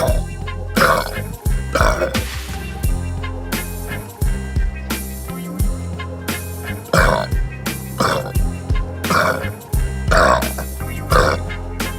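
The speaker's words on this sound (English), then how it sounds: "decided to go ahead and whip off a few burps here" A person lets out a series of loud, close burps after drinking cola, several long croaking belches separated by short pauses over background music.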